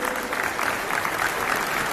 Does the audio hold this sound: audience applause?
yes